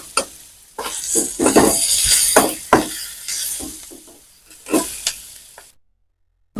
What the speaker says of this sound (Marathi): आपल्याला कांदा पाहिजे चटणीसाठी तर असा मस्तपैकी भाजून घ्यायचा तळून घ्यायचा